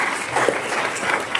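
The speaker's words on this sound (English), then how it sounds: "Please join me in giving him a round of applause." Audience applause for a classical Indian musician at a dance debut recital, a steady, fairly loud patter of many hands clapping throughout.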